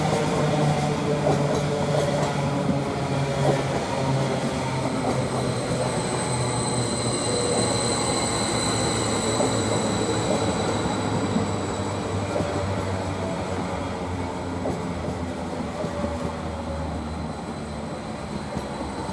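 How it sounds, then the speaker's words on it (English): Train departing Chelmsford station, a steady loud rumble of wheels and carriages with faint high squeals, sustained throughout with no voices. "And we get more of this train when it departs."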